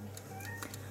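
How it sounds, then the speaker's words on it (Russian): A cat lets out a short, loud yowling meow indoors, a single brief cry over a low steady hum. "Это кот орет."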